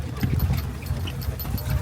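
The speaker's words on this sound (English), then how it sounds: "This is our horse and carriage." Horse hooves clip-clop steadily while pulling a tourist carriage near the Giza pyramids in Cairo, set against a constant engine-like rumble and street noise.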